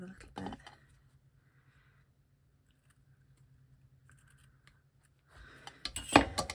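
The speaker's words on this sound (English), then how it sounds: "Just cut that off there a little bit." Scissors cut cotton wool batting for a fabric postcard, giving a few close, crisp snips at the start and a cluster of snipping near the end, with quiet talk in between.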